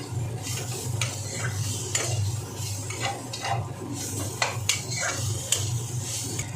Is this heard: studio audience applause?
no